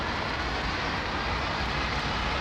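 A Boeing 767 at London Heathrow gives off a loud, steady roar of engine noise that fills the whole stretch without a break.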